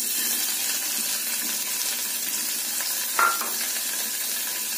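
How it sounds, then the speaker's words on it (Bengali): Paneer frying in mustard oil in a kadai gives a steady close sizzle that holds at an even level throughout, with one brief sharper clink partway through. "পনিরগুলোকে আমি একটু ভেজে নেব প্রথমে।"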